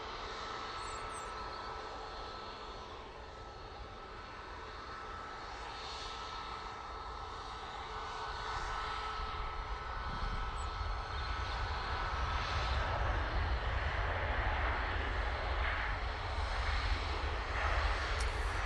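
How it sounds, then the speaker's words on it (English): A Lufthansa airliner arriving from Munich touches down, its engine roar rising gradually in loudness and low-end rumble over the second half as it nears, with no talking. "Lufthansa, about to touch down."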